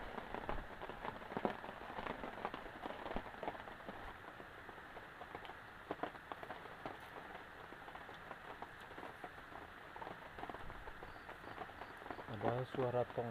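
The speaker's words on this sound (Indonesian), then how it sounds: "hujan gerimis tuh." Light drizzle falling outside a garden hut, a faint steady patter of fine drops forming a soft continuous hiss in the background.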